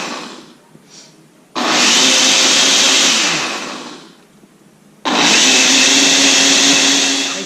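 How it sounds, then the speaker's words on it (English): A powerful home blender whirs through milk, protein powder, blueberries and strawberries in two loud, sustained bursts, each starting abruptly and running a few seconds, separated by a quieter pause with faint handling sounds. "It's going to be very noisy because my blender is very good."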